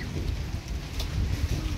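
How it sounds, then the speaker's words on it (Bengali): Light drizzling rain with gusty wind, heard as a steady, soft hiss and low rumble with no distinct drops standing out. "এই 5-7 মিনিট আগেই ঝিরঝির করে বৃষ্টি শুরু হয়েছে"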